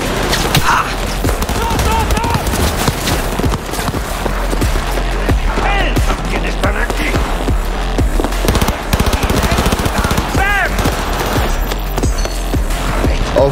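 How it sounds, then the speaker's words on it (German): Rapid automatic gunfire and shots in the Cyberpunk 2077 video game during a firefight, loud, dense bursts crackling almost nonstop over game music and effects, with voices shouting at times. "Ich schieß dich in Stücke!"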